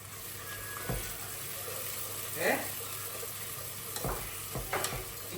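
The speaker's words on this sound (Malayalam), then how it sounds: "ഇനി ആ എണ്ണയിൽ തന്നെ നമുക്കൊരു 3 സവാള വറുത്ത് കോരാം" Three onions fry in oil as a garnish for biryani, giving a faint, steady sizzle. A few sharp clinks and scraping stirs break through it.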